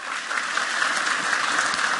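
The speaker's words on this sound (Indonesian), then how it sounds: "silakan tepuk tangan buat teman Anda" A studio audience at an Indonesian health talk show applauds for a fellow participant, a short, even, continuous wash of clapping at moderate loudness.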